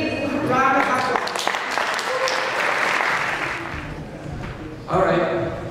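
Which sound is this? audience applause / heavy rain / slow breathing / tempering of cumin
audience applause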